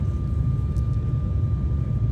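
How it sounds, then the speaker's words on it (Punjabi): A steady low rumbling drone of an airplane engine as the plane lands at Guru Gobind Singh Airport, Nanded, constant and unbroken, with no voices. "ਜਹਾਜ਼ ਹੈ ਹੌਲੀ ਹੌਲੀ ਲੈਂਡ ਹੋ ਰਿਹਾ"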